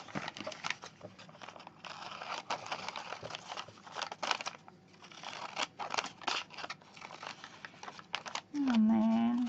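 Scissors snipping through paper while making word ephemera, a close series of quiet, irregular crisp cuts with short pauses between, and a brief louder rustle of paper at the end.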